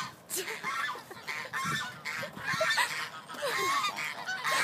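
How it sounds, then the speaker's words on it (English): Geese honking at a park, with repeated harsh, nasal calls in uneven bursts, some overlapping, fairly close and moderately loud over faint outdoor background. "Hear that one? It's all honking at us."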